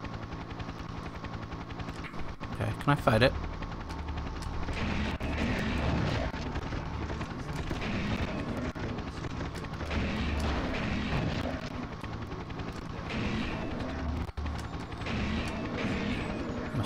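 Helicopter boss attacking in the PS1 video game Shadowman, with a constant rotor and engine roar mixed with bursts of gunfire and explosions, and a voice briefly speaking over the game sounds.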